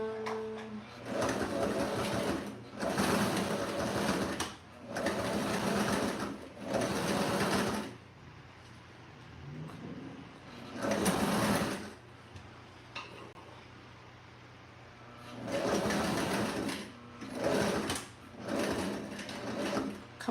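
A sewing machine double-stitches a cozy bed pillow in repeated bursts of a few seconds each, separated by quiet pauses, with moderate close whirring and no talk.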